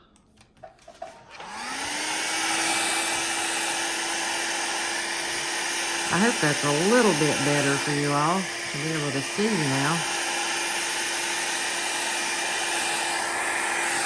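A hair dryer drying alcohol ink artwork whirs on after a click and runs with a steady, close, high-pitched drone while a person talks over it.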